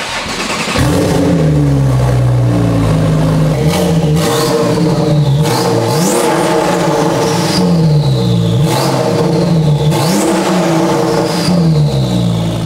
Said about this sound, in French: un échappement, donc un type de straight pipe aussi, où on entend énormément les turbos